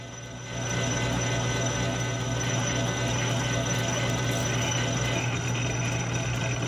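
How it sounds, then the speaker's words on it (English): Metal part being drilled on a machine in a home workshop: a steady, continuous mechanical whir and grinding hum starts abruptly and holds at an even level, with no talking over it. "I'll finish drilling it now the rest of the way and then part off the second one."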